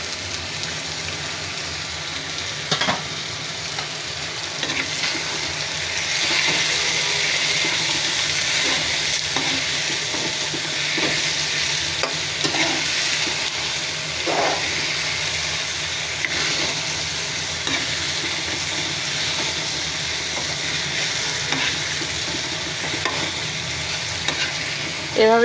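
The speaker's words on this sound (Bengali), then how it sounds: "এভাবে একটু ভাজা করে নেবেন মাংসের সাথে, মশলার সাথে মূলাটা।" Radish frying with chicken and spices in a pan, a steady close sizzle with stirring scrapes and occasional clinks running throughout, no voices.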